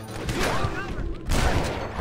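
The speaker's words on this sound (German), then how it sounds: "Schöner Schuss." Gunfire in the Red Dead Redemption video game during a raid on Fort Mercer, bursts of shots around the middle and end with a loud crack near the finish, mixed with game sound and some voice.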